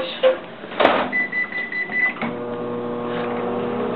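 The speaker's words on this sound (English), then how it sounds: "Now we're going to put this into the microwave" A microwave oven is shut and started to melt butter for brownies, with a door clunk, a button beep, then a steady hum running on close by.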